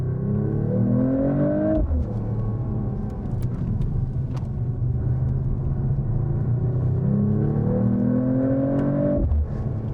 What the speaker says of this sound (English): we've still got a straight six here. So how does it sound? Let's downshift.